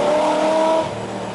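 A loud, raspy engine of a modified Chevy Caprice police car with fully open exhaust headers droning steadily at high revs, its pitch rising slightly before easing off, heard from close by.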